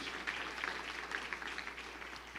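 A church congregation applauds in a steady, fairly soft wash of clapping that runs throughout, with no voices over it.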